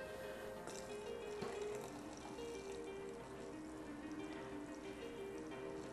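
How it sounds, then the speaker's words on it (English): Liquid mixture pours steadily over a roll of paper towels in a container with a gurgling, splashing trickle, continuous and close, with a faint hum beneath. "pour the mixture over it"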